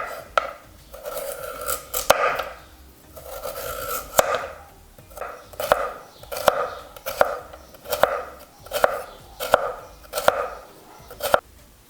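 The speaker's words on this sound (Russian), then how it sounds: "Мне также понадобится морковь. Беру 1/2 часть и нарезаю мелким кубиком." A knife dices half a carrot into small cubes on a board, giving repeated crisp chops at an uneven, unhurried pace over a soft scraping background, close by and with no talking.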